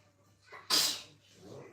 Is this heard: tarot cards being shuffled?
no